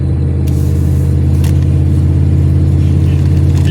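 Car engine droning loudly while driving slowly on Long Run Road, a constant deep, close-up hum and rumble with slight variation and no talk.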